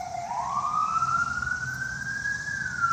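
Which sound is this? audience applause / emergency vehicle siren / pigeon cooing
emergency vehicle siren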